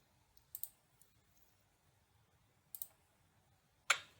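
Three sharp mouse clicks on a computer, spaced apart over a quiet room hum, the last one louder and crisper, with no talking.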